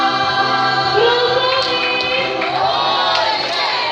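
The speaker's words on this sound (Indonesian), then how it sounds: "Tepuk tangan yang luar biasa" A large crowd roars and cheers continuously at close range, a dense wash of voices with whoops rising above it.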